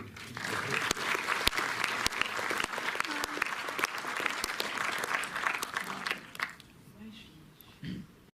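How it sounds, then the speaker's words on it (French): Audience at a film premiere at the Méliès cinema in Montreuil claps steadily for several seconds, with a few sharp individual claps standing out, then the applause fades and a voice is briefly heard. "on peut même l'applaudir au passage"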